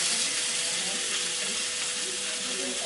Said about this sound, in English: That sizzle is very important.